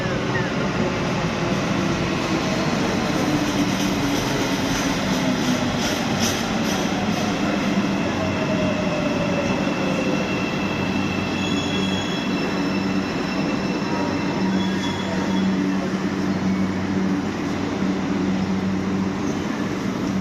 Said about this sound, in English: we took a walk on the Asian side of Istanbul and returned to our hotel via the undersea metro